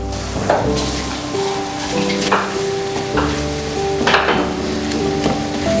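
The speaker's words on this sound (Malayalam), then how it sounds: "ഇനി നമുക്ക് നമ്മൾ വറുത്ത് വെച്ച അതായത് റോസ്റ്റ് ചെയ്ത് വെച്ച നമ്മുടെ വെർമിസെല്ലി ഇതിലേക്ക് ഇട്ട് കൊടുക്കാം." Roasted vermicelli being tipped into a pot of boiling water on the stove, giving a steady bubbling sizzle with a few louder clattering knocks and tonal hums in the background, and no voices.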